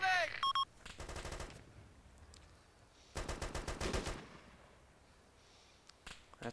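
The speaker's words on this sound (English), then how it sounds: "That's a sniper." Sharp bursts of gunfire in the video game Arma 2, a sniper's shots mixed with rapid automatic fire, arriving in two loud clusters separated by quieter battlefield ambience.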